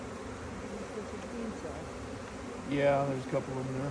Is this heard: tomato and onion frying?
no